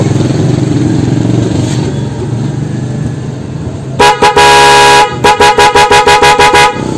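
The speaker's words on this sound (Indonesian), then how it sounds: "Dan kita akan tes nyalanya klakson Denso." A Denso horn on a Honda Vario 110 CBS scooter blares in one sustained blast of about a second, then several quick short toots follow in rapid succession, over a low engine rumble.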